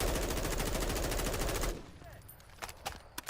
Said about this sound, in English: I'm gonna full auto this thing into a wall.